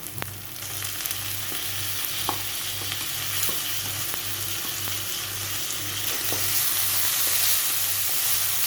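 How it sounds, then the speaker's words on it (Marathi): Finely chopped tomato frying with garlic in a pan for prawn masala, a steady close sizzle with occasional stirring clinks against the pan and a faint low hum beneath. "आता त्यामध्ये घालणार बारीक चिरलेला टोमॅटो"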